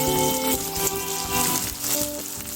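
Onions hit hot oil in a pan and sizzle loudly and close up, a continuous crackling fry with a few brief clinks.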